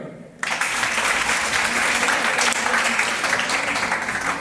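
After a brief quiet moment, an audience at a motivational education seminar, including children, bursts into dense clapping that stays loud and continuous to the end.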